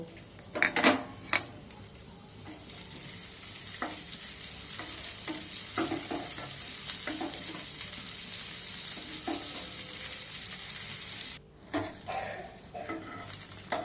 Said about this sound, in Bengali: এবার ওর মধ্যে দিয়ে দেবো কাজু আর কিশমিশ। কাজু কিশমিশগুলো আমি হালকা ভেজে নেব।